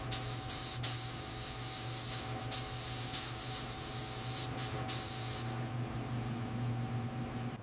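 White paint sprayed onto the body of a 1959 Cadillac Eldorado Biarritz, a close continuous hiss with a few brief interruptions before the spray stops near the end.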